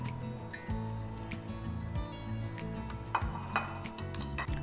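A metal sheet pan of roasting potatoes and green beans is handled after about ten minutes in the oven and steaks are laid on it, giving scattered metallic clanks, scrapes and soft thuds close by with no talk.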